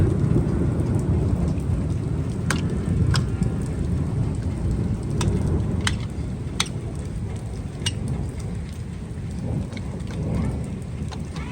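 Heavy rain pours steadily on a garden in Zonguldak, Turkey, in a dense, continuous hiss, with deep rumbles of thunder rolling underneath throughout.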